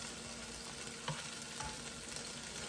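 Carrots added to a pan of sizzling onion produce a steady, faint frying hiss, with a couple of soft stirring taps partway through and no voices.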